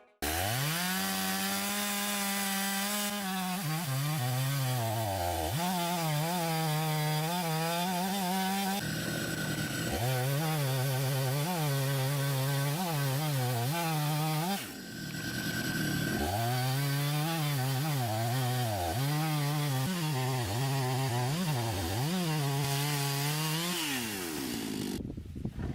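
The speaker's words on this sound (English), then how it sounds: "guide transforms a chainsaw into something like a milling machine" A chainsaw fitted with an aluminum and steel mill guide rips lengthwise through logs, its engine snarling loud and close in long sustained cuts that bog and rev between passes, with no voices.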